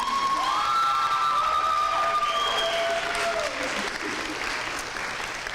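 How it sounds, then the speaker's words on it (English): An audience applauds and cheers at a university honors convocation after a musical selection. The clapping is dense and sustained, with whoops and a sung or sustained tone at the start, and it fades gradually toward the end. "So let's give another round of applause."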